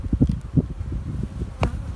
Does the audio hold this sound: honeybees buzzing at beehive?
yes